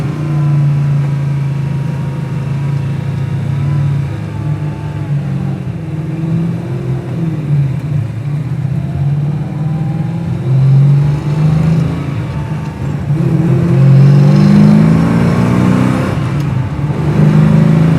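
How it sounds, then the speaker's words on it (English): A 1979 Chevrolet Camaro Z28's exhaust rumbles and drones as the engine accelerates, the pitch climbing and dropping through gear changes, loud and close. "really be able to hear that exhaust"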